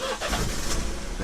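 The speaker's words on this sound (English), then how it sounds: "So if I go ahead and turn on my car" BMW 1 Series car engine cranking and firing up, a short burst of starter churn settling into a low idle, heard close inside the car.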